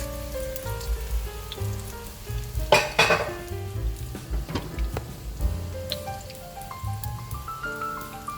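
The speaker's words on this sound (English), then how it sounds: "the sizzling sound, along with its smell, is very delicious" Steady sizzling of a broccoli mixture frying in a pan, crackling and popping throughout, with a louder burst of hissing midway and soft clinks of stirring.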